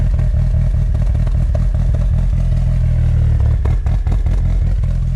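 A Mitsubishi Evo engine idles steadily after a crankshaft position sensor replacement, a loud, close, continuous low rumble with a light clattery pulse.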